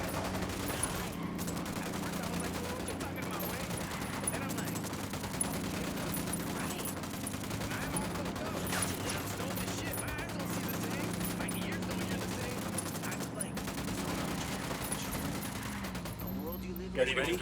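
Gunfire crackles through a firefight in Ghost Recon Wildlands, with dense, continuous bursts of shots at moderate distance beneath game ambience and voices.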